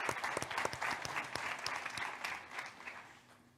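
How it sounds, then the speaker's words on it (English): A product keynote audience gives a round of applause, a fairly quiet and steady wash of many hands clapping that fades slightly toward the end. "So give yourselves all a round of applause"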